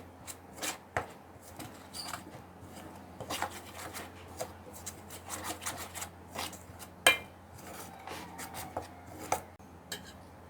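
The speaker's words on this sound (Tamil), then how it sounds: "இது எல்லாத்தையும் நல்லா ஒன்றா மிக்ஸ் பண்ணி விட்டுருங்க." Cauliflower pieces are mixed by hand with spice masala in a bowl for pakora, giving close, irregular rustling, scraping and soft clicking bursts with no talking.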